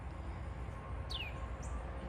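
A small warbler gives a single quick descending chirp, with a second brief high note just after, fairly close and clear over a steady low background rumble outdoors.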